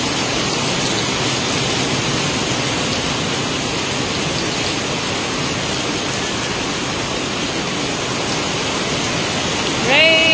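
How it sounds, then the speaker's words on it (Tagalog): Heavy rain pours down steadily in Barugo, Leyte, making a dense, continuous hiss that fills the whole stretch. A brief voice is heard right at the end. "Oh, ang lakas ng ulan today."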